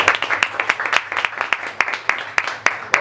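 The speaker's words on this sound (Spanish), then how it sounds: "un aplauso y vamos a disfrutar de su conocimiento" A small audience at a beer talk claps for the speaker, a sparse run of distinct individual hand claps at close range, fairly loud and unevenly spaced over about three seconds.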